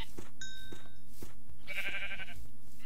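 Sheep bleating in the game Minecraft, a pair of short wavering calls near the middle of the clip, over steady game background hum and soft intermittent thuds.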